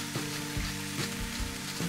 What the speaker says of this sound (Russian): Тут же отправляем трубача. Прям чуточку обжариваем вместе с салатом.